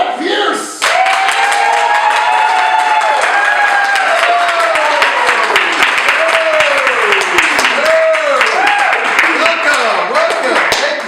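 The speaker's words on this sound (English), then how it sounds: "put your hands together for our host tonight, Mike Pierce." A live comedy-show audience claps and cheers for the host after he is introduced, a dense, loud burst of applause that continues steadily for the whole stretch, with whoops rising over it.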